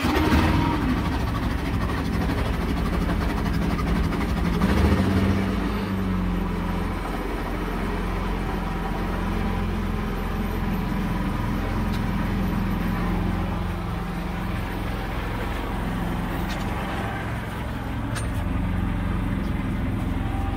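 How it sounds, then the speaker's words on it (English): A generator runs inside a soundproofed skoolie school bus, giving a steady, muffled engine drone that holds at an even level throughout with no speech. "The next test will be to start up the generator and see how it sounds with all this"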